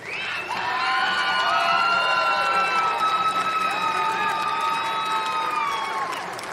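A large crowd at a softball World Cup closing ceremony applauds and cheers loudly and steadily, with high whoops and shouts riding over the sustained clapping.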